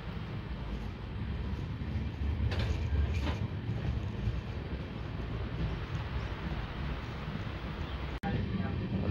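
A Lalkuan–Bandra superfast express train runs at restricted speed through an elephant corridor after leaving Lalkuan, heard from inside the carriage as a steady, loud low rumble with faint voices in the background.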